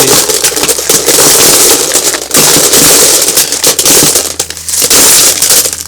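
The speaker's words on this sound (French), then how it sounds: "je vais prendre des gravillons et je vais les mettre au fond" Small gravel poured into the bottom of a lemon tree's plant pot, a loud dense rattling and crunching of stones cascading in bursts, close up and without speech.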